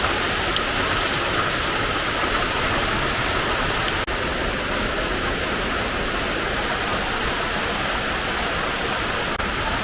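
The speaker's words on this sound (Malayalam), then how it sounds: "അവിടെ വെള്ളം വീഴുന്നതാണ് അവിടുത്തെ രസമായിട്ട് എനിക്ക് ഏറ്റവും കൂടുതൽ ഫീൽ ചെയ്തിട്ടുള്ളത്" Rainwater pours down close by in a loud, constant rushing hiss like runoff spilling onto a surface, steady throughout with one faint knock partway through and no speech.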